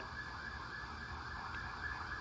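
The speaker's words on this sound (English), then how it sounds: "It might be a police car or an fire brigade, something like that. They are just passing by." A police car or fire engine siren wails faintly outside as it passes, a steady, distant tone with no talking.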